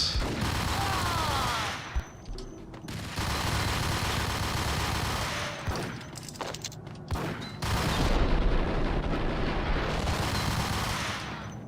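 Sustained bursts of rapid gunfire in the Max Payne video game, loud and crackling, broken by short pauses, with a heavy grenade blast and boom among the shots.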